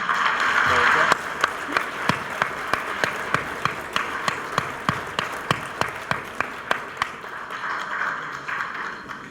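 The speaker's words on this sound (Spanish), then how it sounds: "vamos a darle la bienvenida con un aplauso fraterno" An audience at a Latin American progressive political conference welcomes a speaker with applause that settles into steady rhythmic unison clapping, sharp regular beats over a murmuring crowd before fading out.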